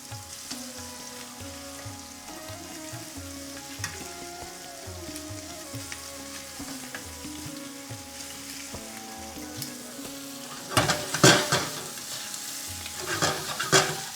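Paneer cubes frying in a pan for an onion curry, a continuous soft sizzle and crackle with sharper spattering pops and clinks toward the end, no talking.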